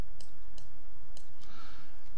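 Crisp mouse clicks land on toolbar buttons in PHOENICS software, a handful of separate sharp ticks spread over a few seconds against a steady background hiss.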